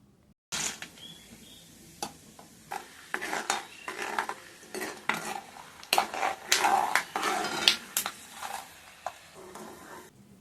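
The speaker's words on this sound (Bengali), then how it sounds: "এখন আমি ওই তেলের মধ্যে কিছুটা বাদাম ভেজে নিব।" Peanuts frying in oil in a pan, with irregular clattering and scraping of utensil against the pan and rattling nuts, close and moderately loud, with no talking.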